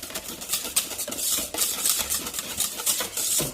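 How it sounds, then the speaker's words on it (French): A utensil stirs homemade sweet almond oil body cream thinned with added water in a container, giving soft repeated scraping and clinking strokes, close and fairly quiet. "Voilà, hop, je remélange."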